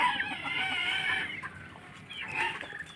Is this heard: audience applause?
no